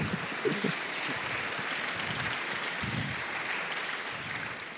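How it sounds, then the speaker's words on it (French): Sustained audience applause fills an evening mentoring event, a steady, dense wash of clapping lasting several seconds, with faint murmurs from the crowd underneath. "On peut applaudir."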